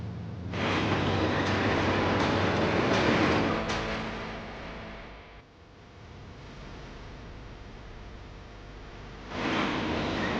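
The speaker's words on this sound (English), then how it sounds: "Trains that seem to go on forever" A long train rolls across the open Nebraska plains with a steady broadband rumble and rush that dips midway and swells again near the end, heard alone without voices.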